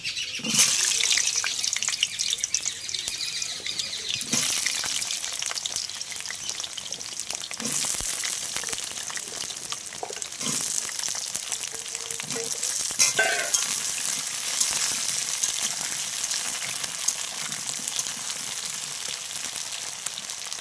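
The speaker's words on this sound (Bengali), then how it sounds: "পটলটাকে আমি লাল লাল করে একটু ভেজে নেবো" Pointed gourd (potol) fries in hot oil in a kadai, with a close, continuous sizzle broken by several sharp stirring scrapes and clacks.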